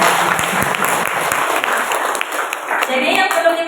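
Audience of mothers at an early-childhood parenting seminar applauds, a steady dense wash of clapping sustained throughout at close range with a faint voice underneath.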